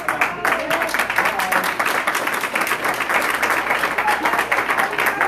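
A town hall meeting audience applauds loudly and steadily, dense clapping filling the room from start to finish with a few voices mixed in.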